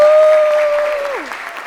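Applause at an awards celebration for human services honorees rolls on steadily, with a sustained tone sliding downward near the end over the clapping.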